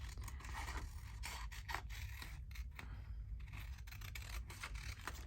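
Scissors cut around paper ephemera for an antique-style document journal, a close, faint run of soft snipping and scraping strokes with no talk.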